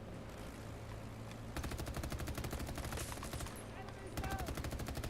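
Gunfire in the video game Battlefield 6, with rapid automatic bursts in two long strings of regular, close shots. A steady hum sits underneath between the bursts.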